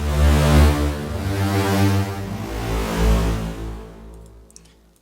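A layered synthesizer patch with unison voices and a volume envelope holds a thick, buzzy sustained chord that swells, then fades out over about four seconds, leaving faint clicks.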